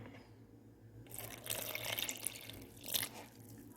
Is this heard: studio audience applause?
no